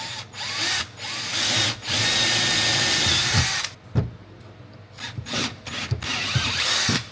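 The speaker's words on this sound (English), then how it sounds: "I've got all the holes drilled out" A power drill bores mounting holes for a 12v switch panel in a 105 Series Land Cruiser, with long loud whirring runs broken by short pauses and brief bumps between holes.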